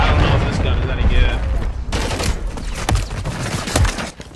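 Bursts of gunfire in Call of Duty: Modern Warfare III free-for-all play are heard up close and loud in the first half, then fade into scattered shots and clatter.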